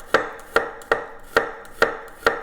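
A knife cuts garlic cloves into thin slivers on a cutting board: six crisp, evenly spaced chops land about every half second, close and clear with nothing else heard.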